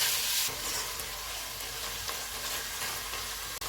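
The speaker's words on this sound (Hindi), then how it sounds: "300 ग्राम कीमा। कीमा का कलर चेंज होने तक भूनेंगे।" Minced keema fries in a hot pan with ginger-garlic paste, giving a continuous close sizzle with occasional scraping knocks as it is stirred.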